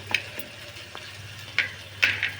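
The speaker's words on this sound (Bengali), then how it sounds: "বেগুনটা ভালো করে চটকে মেখে নেবো।" Cooled roasted eggplant squished and kneaded by hand, giving soft, wet squelches in a few irregular bursts, with the loudest near the end, close up and without talk.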